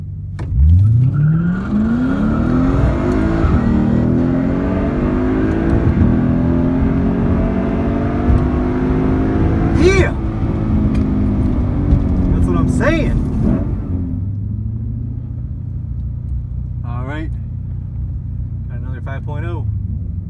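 A Lexus IS F with an exhaust-only setup revs and accelerates hard at a drag strip, engine pitch climbing steadily through the run and then settling to a lower idle drone, loud and close, with brief voices over it.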